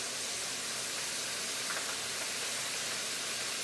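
Steady, even hiss of steam rising from a pot, broadband and constant, at moderate volume with no voices.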